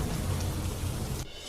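Heavy monsoon rain pours as a dense, steady hiss of falling water, close and fairly loud, then cuts off abruptly just before the end.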